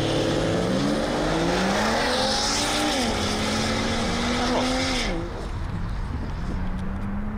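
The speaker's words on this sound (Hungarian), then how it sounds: "kigyorsításon itt a célegyenesben olyan hangja van, mint hogyha egy komoly versenyautó menne" A Volvo V60 Polestar accelerates hard like a race car, its loud, rising engine note climbing through several gear shifts before easing off near the end, close and dominant.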